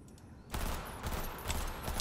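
Dense, rapid automatic gunfire from a weapon in the video game Cyberpunk 2077 bursts in after a brief quiet moment and continues as a rough, continuous rattle.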